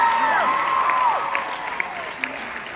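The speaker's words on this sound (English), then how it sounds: "Give yourselves a round of applause." Applause and cheering from a crowd of teenagers at a student summit, a broad fading wash of clapping with a few high whoops over it, tapering toward the end.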